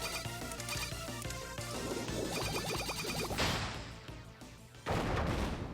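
Rapid gunfire and bullet impacts from the 3DS video game Mii Force, a dense stream of electronic shots and explosions over a busy game soundtrack, loud and continuous throughout.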